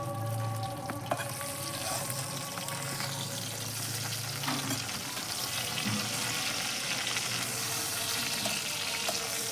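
Fish frying in a pan, a steady loud hissing sizzle throughout with occasional clicks and a brief low hum, close up and with no talking.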